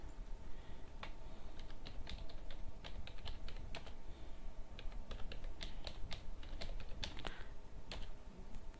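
Keys clatter on a computer keyboard while Tamil text is typed in Photoshop, a quiet, irregular run of soft clicks under faint room noise.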